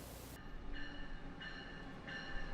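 Passenger train running on rails in the United States, a quiet steady rolling rumble with repeated tonal wheel squeals rising and falling at intervals, somewhat distant and without talk.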